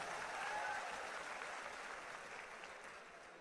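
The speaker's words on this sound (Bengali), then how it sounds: "এইটার জন্য ভাই আপনাদের সবাইকে আমি একটা করতালি দিতে চাই" A crowd applauds at a political rally, a dense wash of clapping that is already full at the start and slowly thins toward the end.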